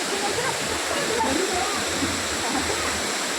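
Ukkada Falls in the Muttodi forest roars steadily, a dense broadband rush of falling water that stays constant and loud throughout, with no pauses or distinct splashes.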